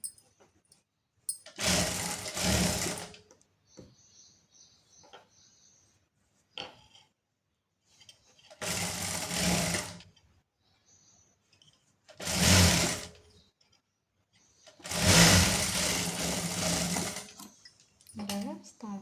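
A sewing machine stitching straight-cut pants, running in four separate bursts of steady mechanical whirring, close and clear, with quiet pauses between runs.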